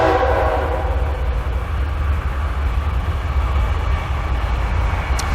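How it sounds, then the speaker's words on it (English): A train rumbles past close by, a loud, steady low roar with a brief tonal horn-like note near the start. "I'll wait for the train."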